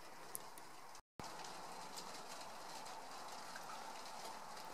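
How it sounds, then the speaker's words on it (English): Steady rain falling on a greenhouse, a dense, even hiss of patter heard from inside, with faint scattered sharper drips and no voices. "Is there anything more lovely than sitting in a greenhouse in the rain?"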